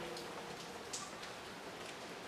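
Rain falls in a soft, even patter with scattered individual drops, faint and continuous with no voices, captured on a Zoom F3 recorder with a DPA 4560 microphone.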